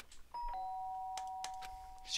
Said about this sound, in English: sound of the doorbell pierced my sleepy haze and pulled me back to the real world.